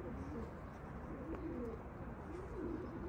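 Tumbler pigeons coo softly and repeatedly in a low, rolling murmur against faint outdoor background noise.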